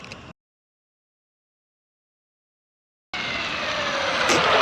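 An Arrma Typhon 223S RC car on a 3S battery at full throttle, a brief burst of noise, then a gap of silence before a loud, rising high-pitched motor whine with road noise as it speeds past.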